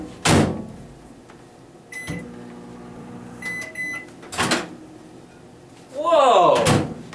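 A kitchen microwave oven door is opened and shut several times. Each time there is a sharp latch click and a thunk, with quiet gaps in between. The sounds are close and fairly loud, and a voice exclaims briefly near the end.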